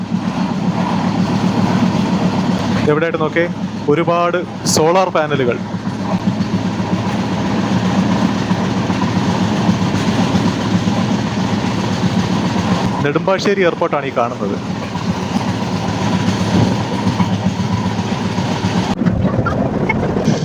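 A passenger train on the Kollam to Coimbatore run rumbles steadily and continuously at close range, with someone talking over it for much of the time.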